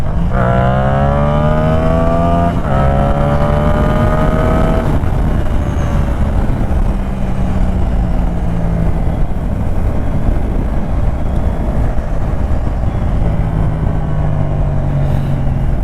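A Yamaha MT-07 motorcycle engine revs up through a gear, its pitch climbing steadily, then drops as it shifts and keeps pulling under constant wind roar at speed.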